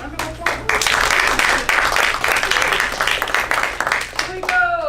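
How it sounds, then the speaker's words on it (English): Applause from a classroom group after a student's argument, a brief round of clapping mixed with voices and chatter, fairly close and steady, with talk continuing over it. "Round of applause."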